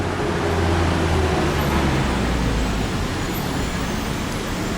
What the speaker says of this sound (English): at this time of the afternoon, the traffic isn't all that bad. It does flow.